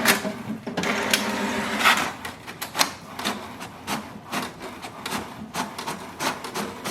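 An HP Deskjet 2952 inkjet printer runs off an information page, giving a steady mechanical whir broken by a series of repeated short carriage and paper-feed clicks and rubs, close by with no talk.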